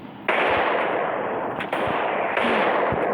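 Gunfire in a shooting video game, sustained and loud, rattling in dense bursts with brief breaks between volleys and no voices.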